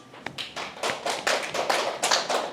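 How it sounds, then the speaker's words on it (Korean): A church congregation applauds during a Sunday sermon, the clapping swelling from scattered taps into fuller, steady applause over a few seconds. "박수."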